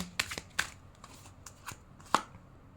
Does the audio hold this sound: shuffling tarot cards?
yes